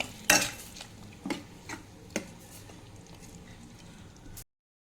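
A spoon scrapes and clinks against a pan while bottle gourd kootu with curry leaves is stirred, several sharp taps over a soft sizzle, close and fairly quiet.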